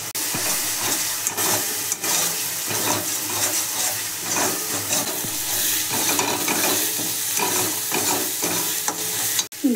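Spice paste frying with onion, ginger and garlic in a pan gives a loud, dense sizzle with steamy hiss, broken by repeated scraping stirs of a utensil across the pan, close and without talk.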